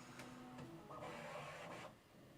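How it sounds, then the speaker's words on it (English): A 3D printer printing a dragon model hums quietly, with faint whirring motor movements and soft shifting tones over a low, steady background. "we've got the dragon in the printer, and he will be in the printer until"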